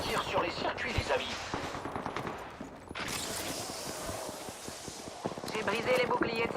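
Rapid automatic gunfire in the Apex Legends video game, bursts of clattering shots with impacts and effects, while a voice talks over the action.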